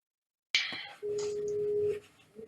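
Telephone call ringing tone: a sharp click opens, then a single steady electronic tone holds for about a second before fading, quiet and alone.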